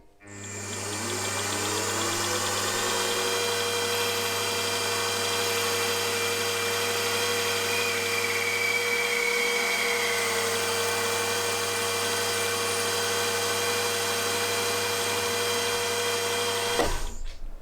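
A milling machine cuts a counterbore with a 1/4 inch 2-flute end mill while machining cylinder heads for a Jerry Howell V-twin IC engine. Its steady motor hum and whine run unbroken for about sixteen seconds before stopping.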